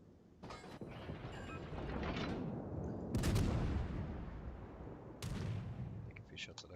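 Naval gunfire from the Russian tier 6 cruiser Budyonny in World of Warships, with booming salvos near 3 and 5 seconds over a constant rumbling game backdrop and a speaking voice.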